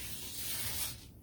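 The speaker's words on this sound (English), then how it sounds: "So I'm gonna use spray adhesive." A can of spray adhesive sprays onto a ball, a single steady airy hiss lasting about a second before cutting off abruptly.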